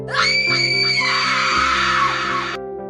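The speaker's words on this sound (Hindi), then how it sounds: "एक आवाज उस रात सब चीर गई, एक औरत की चीख।" A woman's long, piercing scream, loud and close, held for a few seconds before cutting off abruptly.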